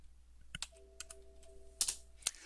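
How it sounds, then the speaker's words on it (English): Sparse clicks of keys tapped on a computer keyboard during GPU overclocking, a few irregular sharp presses with pauses between, close by and quiet, alongside a faint steady electronic tone and no talking. "Now you're going to hear some dings because I'm going to use the keyboard here"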